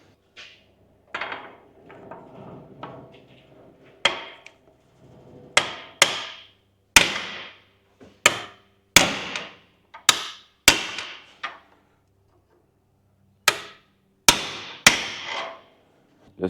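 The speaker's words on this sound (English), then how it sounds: "Just a couple good taps to get that lock ring in." A hammer taps a lock ring into the front differential of a Toyota Hilux N70 during a diff seal replacement. About a dozen sharp, close metallic strikes come singly and in quick pairs, with short quiet gaps and faint shuffling between them.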